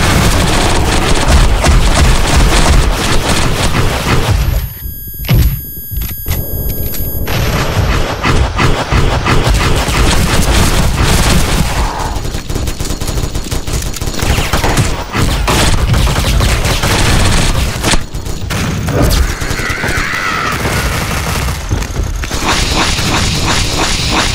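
Rapid bursts of gunfire and explosive blasts in the shooter game SF Rush, on a horror village map, loud and dense throughout with brief near-silent gaps.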